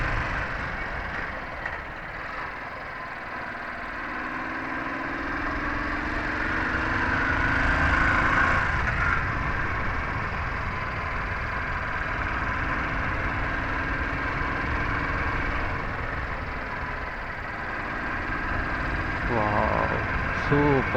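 Motorcycle engine hums steadily through a countryside ride toward Penukonda Fort, with wind noise and a broad, continuous drone that swells slightly midway and again near the end.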